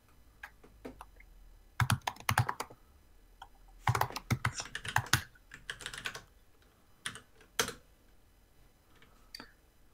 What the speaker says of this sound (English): Let me type it into a web browser.